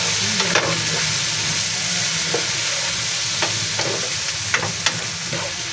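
Sisig made of pork and tofu with a splash of calamansi is stirred in a pan, a steady close sizzle with soft scraping strokes running throughout.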